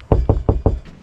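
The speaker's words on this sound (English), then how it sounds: "I'll knock on the thing." Four quick, solid knocks on an RV water hose fitting, evenly spaced and close, with a dull resonant thud and nobody talking.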